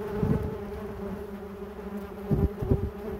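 Active yellowjackets swarm around their nest, with a dense, continuous buzzing of many wasps close by and a few louder passes near the microphone.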